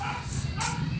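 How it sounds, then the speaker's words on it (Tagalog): A dog gives a quick bark or two, close and fairly loud, lasting about a second. "Ang ingay ng aso."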